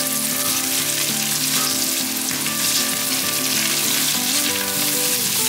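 Carrots stir-frying with celery in hot oil in a wok make a dense, continuous sizzle that stays loud throughout, with a faint tuneful backing beneath it.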